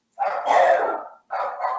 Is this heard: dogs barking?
yes